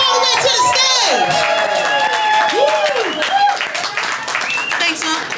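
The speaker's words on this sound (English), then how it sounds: "Clap it up, clap it up, clap it up all the way to the stage." An audience at a poetry slam claps and cheers loudly and continuously as a poet walks to the stage, with voices shouting over the dense applause.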